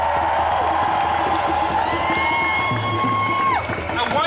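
A large protest crowd cheers and shouts at the State Capitol in Lansing, Michigan, a dense, sustained roar of many voices with a whistle-like tone running through it before it drops off.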